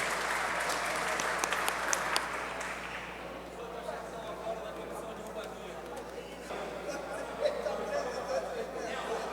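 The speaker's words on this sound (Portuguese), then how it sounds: "Uma salva de palmas para o nosso presidente." Audience at a municipal plenary session applauds the president, sustained clapping that fades into murmured chatter and scattered claps.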